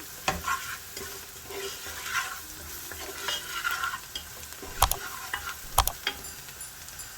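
Spoon scraping and stirring turmeric and spices into mustard greens in a pan with a soft sizzle underneath, with a few sharp clicks and clanks of utensil against the pot.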